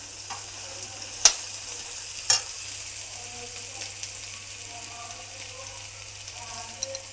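Shukto cooks in a pan with water added, giving a soft continuous simmering sizzle with a couple of sharp clinks from the utensil and faint stirring scrapes.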